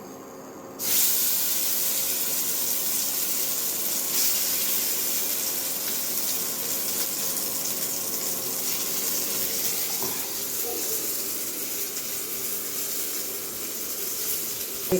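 Spiced masala mixture hitting hot oil in a pan for a tomato and onion curry, a loud steady broadband sizzle that starts abruptly and hisses continuously, slowly easing off near the end.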